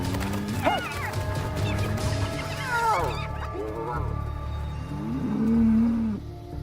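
Several cows low and moo at moderate distance at night near a corral, long drawn calls rising and falling over a steady outdoor background, with one deeper moo near the end.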